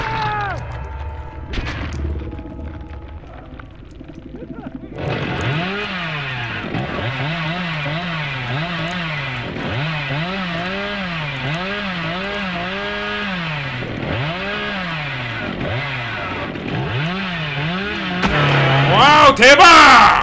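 A chainsaw in the video game Dead by Daylight revs in repeated rising and falling whines, loud and close, with a sharp burst at the end, while someone talks excitedly over it.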